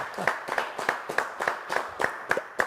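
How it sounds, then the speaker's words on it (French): Rhythmic clapping for a fado singer on a TV set, a small studio audience beating steady hand claps roughly three per second, close and clear with no talk. "Allez, on l'applaudit."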